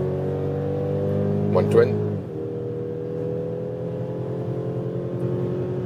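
A new facelifted Mercedes GLC with a 2-liter four-cylinder engine accelerates from 100 to 140 km/h. A steady engine drone fills the cabin, dipping briefly at a shift, while someone talks over it.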